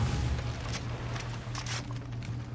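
Rapid gunfire in the first-person shooter Far Cry 3, a continuous crackling stream of shots over a low rumbling background, moderately loud and steady across the whole stretch.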